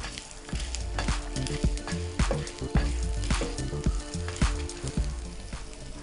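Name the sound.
dried red chillies frying in oil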